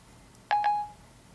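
An iPhone 4S plays two quick dialing tones as it calls a number, a short clear double beep followed by a lingering tone in a quiet room.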